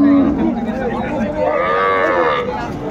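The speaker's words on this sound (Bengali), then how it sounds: "গাভী বাছুর আমরা দেখছিলাম।" Loud, close moo from a cow at a rural cattle market where cows and calves are sold, one long drawn-out low call that bends in pitch, alone with no talk.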